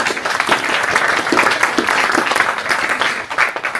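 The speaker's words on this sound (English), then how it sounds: "let's give a round of applause for our panel today." Enthusiastic applause from an audience for a panel, a dense steady wash of clapping that fills the whole clip and tapers slightly at the end.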